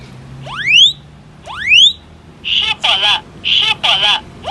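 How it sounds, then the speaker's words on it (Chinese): A LoRa-connected fire alarm is set off by cigarette smoke and sounds a loud electronic pattern: two rising sweeping tones, then pulsed high beeping bursts in pairs, close and clear. "我用香烟来测试警报器。"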